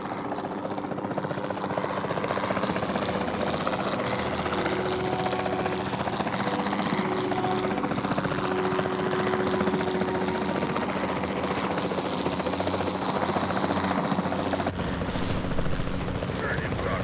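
Helicopter in the video game Jurassic World Evolution 2, a steady whirring rotor and engine drone running continuously at moderate loudness.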